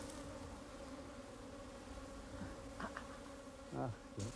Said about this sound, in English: bees, which were foraging when the hive was removed, are returning